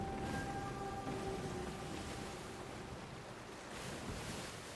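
Ocean waves in the Sea of Thieves video game make a continuous, fairly soft wash of surf and wind around a sailing ship, with a faint tonal hum early on and no talk.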